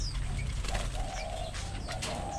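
Babblers in an outdoor aviary, with repeated short chirps and calls from several birds over a steady low background rumble, close and fairly loud.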